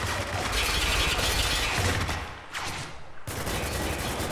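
Rapid automatic weapon fire from an enemy player in a Spec Ops: The Line multiplayer match, loud rattling bursts with a brief lull midway before the shooting resumes.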